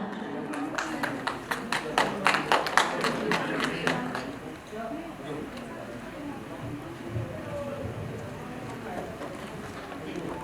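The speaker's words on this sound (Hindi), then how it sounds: "सभी की जोरदार तालियां।" Applause from an audience at a business and entrepreneur award ceremony in Jaipur, a lively burst of clapping over roughly four seconds. It fades into murmuring crowd noise and speech.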